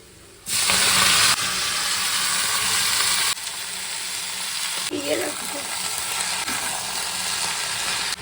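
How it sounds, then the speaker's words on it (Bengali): Chopped onions hit hot oil seasoned with bay leaf, dried chili and cumin, bursting into a loud, close sizzle that settles into a steady frying hiss with occasional stirring scrapes. "তেলের মধ্যে একটু তেজপাতা শুকনো লঙ্কা আর জিরে ফোড়ন দিয়ে অনেকটা করে কুচিয়ে রাখা পেঁয়াজ দিয়ে দিয়েছি"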